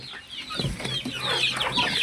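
Native village chickens cluck on a small poultry farm, several birds calling in irregular bursts from fairly close with no talk.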